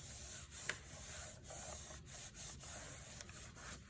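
A roller pressed back and forth over glued fabric on a handmade journal cover, giving a steady soft rubbing, sanding-like texture with small bumps and pauses, close up and quiet, no voices.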